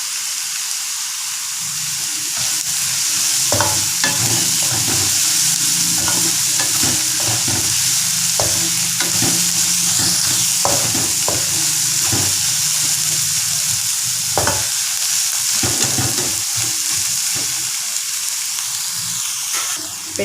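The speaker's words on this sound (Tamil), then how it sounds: "பச்சை மிளகாவும் இஞ்சி பூண்டு நறுக்கி வச்சுட்டு அதை போட்டுருவோம்." Steady sizzling of green chilli, ginger and garlic frying in a hot pan, with repeated scraping and stirring clatters over the continuous hiss.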